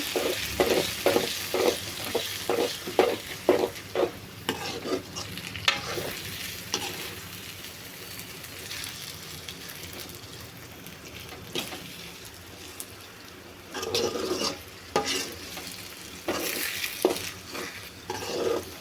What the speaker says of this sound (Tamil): இப்போ நல்லா முட்டையை கிளறி விட்டுக்கோங்க.